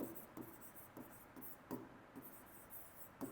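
Pen or chalk writing by hand during a maths lesson, faint scratchy strokes repeating in short bursts roughly every half second, quiet and close with no speech.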